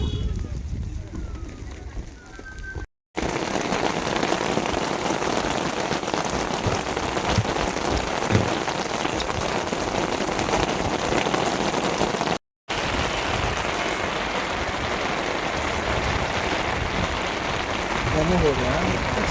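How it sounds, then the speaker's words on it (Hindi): Heavy rain pours down at an outdoor breakfast stop on a hill-temple trip in the Kasar Devi area, a loud, constant drumming hiss with brief breaks, while people talk faintly beneath it. "और बारिश होने लगी है अच्छी खासी।"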